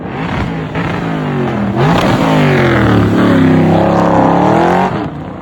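A car fitted with a swapped LS1 V8 running a BTR Stage 3 cam, head work and a full custom stainless exhaust revs up hard and loud, its tone climbing and falling through a close, sustained roar.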